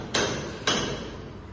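Two sharp hammer blows about half a second apart during plumbing work in a bathroom, loud and close, each ringing briefly before fading, with no talking.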